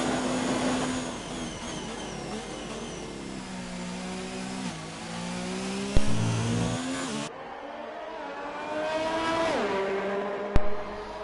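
A Formula 1 race car engine in the F1 2019 game drones at a high pitch on a flying lap at the USA Grand Prix, rising and falling through upshifts and downshifts, loud and continuous.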